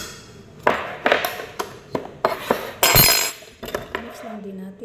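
Cacao powder being stirred into marble cake batter in a bowl, giving a run of sharp utensil clinks and scrapes against the bowl in an irregular rhythm, close and moderately loud, with a voice speaking briefly near the end.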